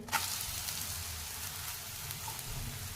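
A besan poli flatbread roasting on a hot pan gives a continuous soft sizzle, with a small knock near the start and otherwise an even hiss, no talking.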